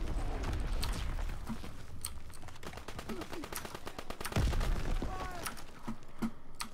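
Rapid bursts of grease gun fire in Call of Duty WWII, with steady automatic shots at mid distance over ongoing battle noise and distant gunfire.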